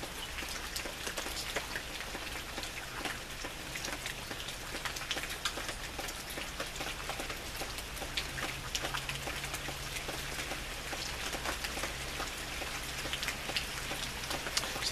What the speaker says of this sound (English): now that the rain is starting to come down more heavily.